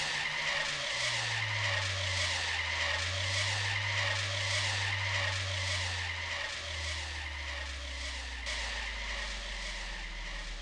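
Car braking hard and skidding in the video game Trader Life Simulator, a loud continuous tire squeal over a steady engine drone that shifts pitch partway through, with no talk.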